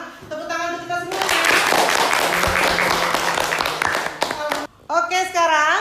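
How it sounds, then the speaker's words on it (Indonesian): A classroom breaks into about three seconds of brisk clapping between stretches of a woman's speech, applause dense and close before the talking resumes. "Tepuk tangan untuk kita semua"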